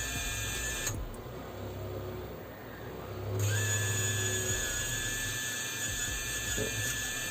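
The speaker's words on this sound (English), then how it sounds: "So now all motors are spinning properly." Brushless motors on a 3D-printed racing drone spin up during a bench configuration test, giving a faint high-pitched electric whine with shifting tones, starting and stopping over a low background hum.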